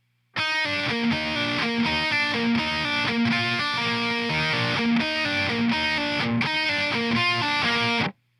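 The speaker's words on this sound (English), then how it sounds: "That's the lead guitar there." A distorted lead electric guitar plays the intro riff of a song, a loud, steady repeating melodic line that starts abruptly and stops cleanly after about eight seconds.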